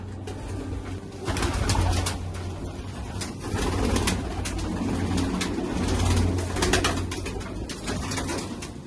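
A flock of black pigeons coos continuously on a rooftop loft, a dense overlapping burble with frequent sharp flutters and clatters throughout.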